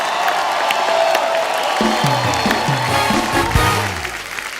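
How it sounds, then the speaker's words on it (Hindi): Studio audience applauding on The Kapil Sharma Show, a steady dense wash of clapping with scattered cheers throughout, joined partway by loud music. "तालियां बजती रहनी चाहिए।"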